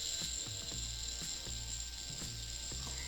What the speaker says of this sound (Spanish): Al momento de conectar la batería, nuestro motor va a poder funcionar, va a poder girar